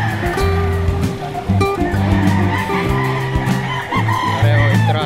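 Chickens and roosters at the Lipa auction market crow and cluck loudly and constantly, many birds overlapping in a dense chorus with repeated crowing calls rising over the crowd noise.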